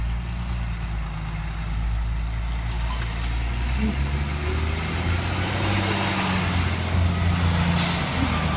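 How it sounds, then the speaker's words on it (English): A garbage truck rumbles and idles close by, its heavy engine drone steady, with a sharp hiss of air brakes releasing near the end. "I say that as a garbage truck is going by."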